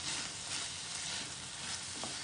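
Chopped vegetables frying in a pan for veg Schezwan fried rice, a soft continuous sizzle with faint stirring, quiet and close, no voices.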